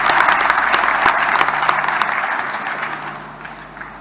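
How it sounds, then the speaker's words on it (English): Political party members at the official South African election results announcement give a sustained, dense round of applause that fills the room and slowly tapers off, with no talking over it. "Please applaud yourselves."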